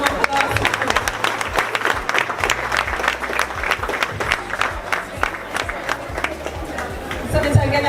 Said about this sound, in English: Let us give Senator a round of applause.